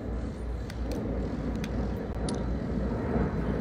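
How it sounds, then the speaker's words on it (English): An airplane passes overhead as a broad, steady roar at a campsite, with a lawnmower running somewhere in the background and a few faint clicks on top. "as the plane is flying overhead and the lawnmower is going up in the background"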